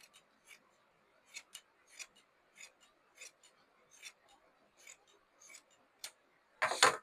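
Scissors snipping through shirt cloth during tailoring, a steady series of crisp close cuts roughly every half second, ending in a louder rustle of fabric.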